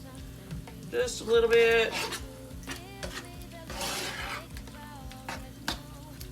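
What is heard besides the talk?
stirring cheese to melt in skillet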